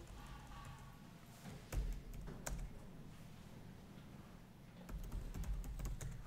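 Faint clicking of typing on a computer keyboard, a steady run of soft keystrokes with a few louder taps, heard alone without talk.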